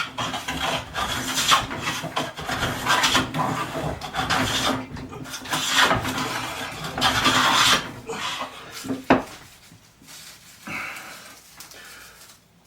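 A Jorgensen No. 4 smoothing hand plane shaves a pine board in a series of rasping strokes, each swish rising and stopping, followed by quieter handling sounds near the end.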